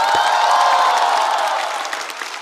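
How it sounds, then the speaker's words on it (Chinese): A studio audience at a Chinese roast comedy show applauds the performers with loud, steady clapping and cheering that thins slightly toward the end. "再次掌声送给所有的表演嘉宾"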